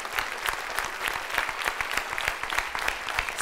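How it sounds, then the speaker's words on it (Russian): A studio audience at a Brain-Ring quiz show claps in sustained, dense applause, loud and even throughout with no voices standing out. "и вы аплодируете сами себе."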